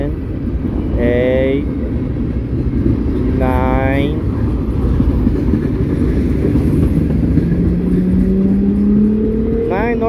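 A Norfolk Southern mixed freight train with boxcars rumbles past at Elkhart, Indiana, a steady loud roar of wheels on rail with rising squeals and whines over it, and a person talks briefly nearby.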